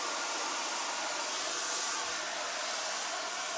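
A hair dryer blows steadily over long, coarse, curly hair, giving an even, close, unbroken rushing hiss with no talk.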